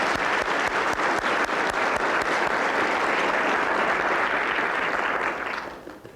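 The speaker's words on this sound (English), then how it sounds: "Let's give them a round of applause." A school-district audience gives a sustained round of applause at a children's speech contest, dense and steady, with a few sharper claps near the start, then tapering off at the end.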